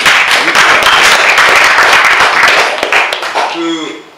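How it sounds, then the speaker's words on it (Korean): A crowd at a Bareunmirae Party strategy meeting of regional governor candidates applauds with dense, continuous clapping that fades out at the end, as a voice briefly speaks over the tail. "동의하시면 박수 한번 쳐주십니다"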